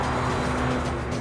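An Aston Martin DBS Superleggera driven hard on the road, a loud, continuous engine and road roar heard from inside or close by, steady throughout the short moment.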